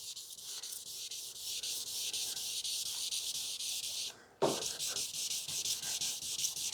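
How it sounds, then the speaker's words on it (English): Sandpaper is drawn across the clear coat of a 1940 Ford-inspired hardtop coupe body panel in wet sanding, making a steady rhythmic hissing rub of close strokes with a brief break partway through. "I kind of like to feel the surface tension of the sandpaper on the body panel"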